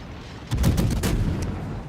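Naval gunfire from warships in a World of Warships battle: a burst of heavy booming shots starts suddenly and rolls on through the rest of the moment, a little echo trailing after the loud central blasts.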